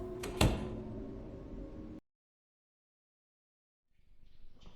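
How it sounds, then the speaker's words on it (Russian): A door unlocked with a key and pushed open in the indie horror game Insomnia: Chapter One, set in an Arctic facility: one sharp click over a rumbling swing, then abrupt silence before faint ambience returns. "Открываем ключом дверь."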